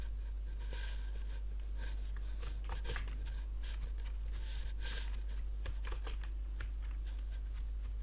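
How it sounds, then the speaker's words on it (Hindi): Keys clatter on a computer keyboard as text is typed into InPage 2009, a quick irregular run of close, crisp clicks over a constant low hum, with no talking. "यहाँ पर कोई टेक्स्ट टाइप कर लेता हूँ"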